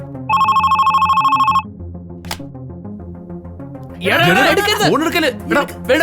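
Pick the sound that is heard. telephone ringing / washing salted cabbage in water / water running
telephone ringing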